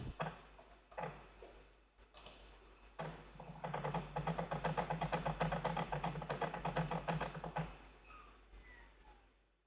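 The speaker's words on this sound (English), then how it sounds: "If you're hearing that clicking away, that's the CD-ROM because it's external." An external CD-ROM drive in a retro PC running Age of Empires II gives off a rapid run of dry, regular clicks and ticks, building and then fading over several seconds, with some soft knocks before it.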